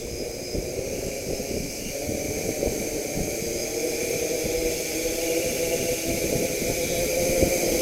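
An HMF S550 hexacopter drone hovering in flight outdoors in light wind, its six motors giving a steady close whirring hum with layered tonal whine, with faint gusts and wind buffeting underneath.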